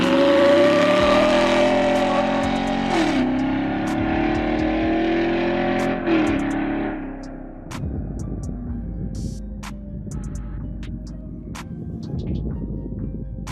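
Chevy Silverado ZR2 with an AWE dual exhaust at full throttle from a stop, a loud close roar climbing through several gear pulls for about seven seconds before dropping to a rumbling coast with scattered clicks.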